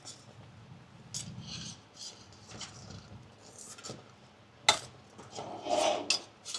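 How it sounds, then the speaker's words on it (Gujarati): Corn flour khichu dough is stirred slowly in a pot, with faint scraping and dull knocks of the spoon against the metal in irregular strokes, quiet and close, with no speech. "ધીમે ધીમે હલાવતું જવાનું, મિક્સ કરતું જવાનું"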